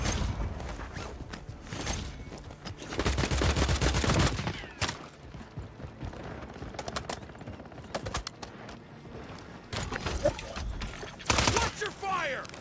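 Bursts of video game gunfire on Call of Duty's Rebirth Island, with a heavy volley near the middle and further sharp shots later, set against steady battle noise and a voice talking at times.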